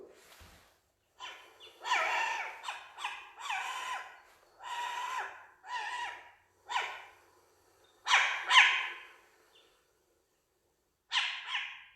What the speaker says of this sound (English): The short-eared owl has a squeaky bark.